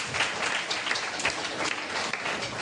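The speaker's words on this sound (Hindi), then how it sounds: "ताली बजा के परमेश्वर को।" A congregation claps hands in praise during a Hindi-language church sermon, a dense, continuous wash of many hands applauding together, fairly loud and close.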